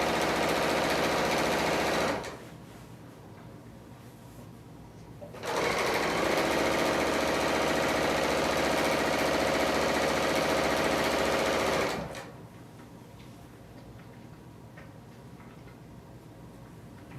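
A Bernina L890 serger stitches seams on a quilted dust jacket, running in two loud, rapid bursts with a quiet pause between, the motor whirring and needles chattering evenly.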